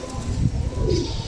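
Pigeons cooing on a street, a couple of soft, low, throaty coos close by within a second, with faint outdoor background noise and a brief higher chirp.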